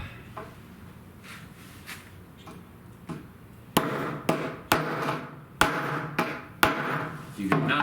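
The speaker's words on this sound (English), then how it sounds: "I am just going to go ahead and hammer in mine" Hammer blows drive steel T-nuts into drilled plywood for a home climbing wall, a run of sharp, close knocks spaced about a second apart after softer taps early on, with no talking.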